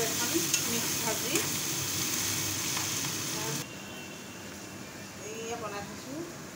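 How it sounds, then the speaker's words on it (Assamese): A mixed fry of pointed gourd, ivy gourd, bitter gourd and potato sizzles in a pan, an even hiss that drops quieter partway through, with a voice speaking over it. "এতিয়া মই ভাজি আছোঁ পটল, কুন্দুলি, ভাতকেৰেলা আৰু আলু এখন মিক্স ভাজি"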